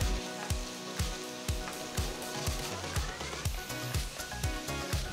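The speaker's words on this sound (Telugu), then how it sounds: "సగానికి కట్ చేసిన 2 ఎండుమిరపకాయలు, చిన్నగా తరిగిన 2 మీడియం సైజ్ ఉల్లిపాయలు వేసి 1 నిమిషం పాటు వేయించాలి." Sliced onions, halved dried Byadgi red chillies and asafoetida fry in hot oil for a brinjal masala curry, giving a steady, close sizzle with regular sharp clinks and clatter throughout.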